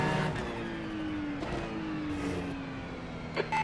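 A race car in a GTP/GT3 multiclass racing game at the Nürburgring Grand Prix circuit, its engine holding a steady, slowly falling drone as it passes, heard alone at moderate volume.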